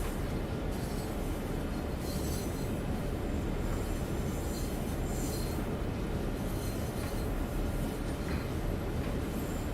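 Train rumbling steadily along the Clinchfield Railroad in Train Sim World 2, a continuous loud low roar of wheels and cars with faint high squeal, no talk.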